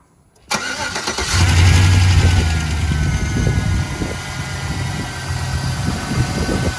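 A 2005–2010 Chevy 5.3L V8 kicks over abruptly and settles into a steady, close, loud idle, with a low mechanical hum and faint belt and pulley whine after a freshly replaced alternator.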